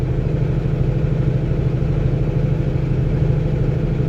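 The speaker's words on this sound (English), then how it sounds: "if you can hear the engine, you know, it's just kind of purring nice" Peterbilt Mega Cab semi truck engine at 1500 RPM, cruising near 50 mph up a canyon freeway, giving a steady, even low drone that stays close and continuous throughout, with no talking.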